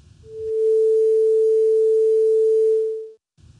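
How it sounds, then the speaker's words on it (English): A single pure, steady electronic sine-wave tone holds for about three seconds, smooth and unwavering, with a soft fade in and out. "here's a basic sine wave"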